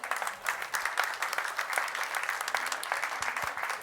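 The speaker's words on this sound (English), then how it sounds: "Let's give them a warm round of applause as winners of the early stage." An audience at a university startup competition applauds the early-stage winners, steady moderate clapping from a crowd throughout.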